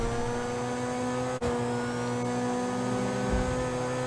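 A Grotti Turismo R sports car engine in GTA Online hums with a steady, even drone and layered tonal whine, briefly cutting out for an instant partway through before resuming.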